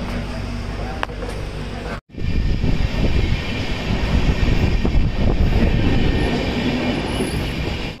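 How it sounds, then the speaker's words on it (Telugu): The Cholan SF Express, an LHB-coach train, begins pulling out. After a brief cut, a loud, close rumble of wagons builds, with wheels squealing and faint clickety-clack over steady track noise. "మన ట్రైన్ అయితే స్టార్ట్ అయిపోయింది"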